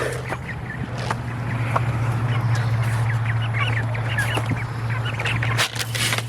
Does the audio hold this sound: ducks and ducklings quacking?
yes